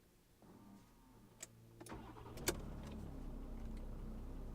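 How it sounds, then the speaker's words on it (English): A VW Amarok V6 pickup engine cranks and starts, then settles into a steady, fairly quiet idle heard from nearby, with a few brief clicks and clunks around the start. "You can most definitely hear the V6."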